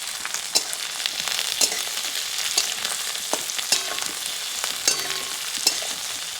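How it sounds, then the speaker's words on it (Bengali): Chopped onion and garlic fry in a pan, giving a continuous sizzle close by, with sharp clicks and scrapes as a utensil stirs them now and then. "পেঁয়াজের রসুনটিকে কিছুটা লাল লাল করে ভেজে নিচ্ছি"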